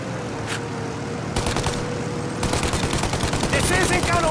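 Gunfire aimed at a plane's engines in Mafia Definitive Edition, with bursts of rapid automatic shots over a steady engine drone, growing denser and louder toward the end.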